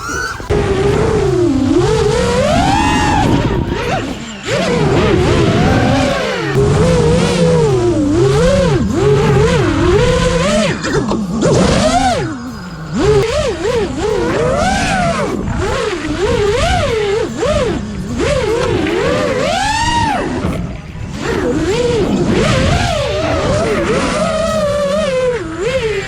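FPV freestyle quadcopter drone on Meps SZ 2306 1950kV motors, flying among trees: a loud, continuous high-pitched motor whine that swoops up and down in pitch with throttle changes, with brief dips and no talking.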